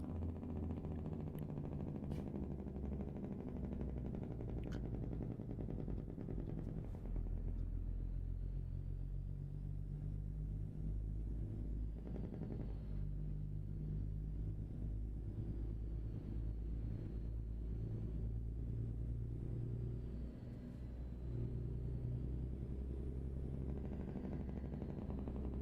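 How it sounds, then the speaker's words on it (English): Scania truck engine in Euro Truck Simulator, a steady low rumbling drone that holds throughout with slight shifts in load and no one talking over it. "I do like the sound of this truck."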